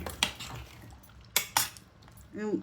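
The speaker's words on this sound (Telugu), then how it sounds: "చింతపండు పులుసు వేసాను. ఇప్పుడు ఒకసారి కలియబెట్టి" Yam curry with tamarind juice being stirred in a pot, a few sharp clinks of a utensil against the metal rim spaced across the moment, with soft scraping between and a faint ringing knock at the end.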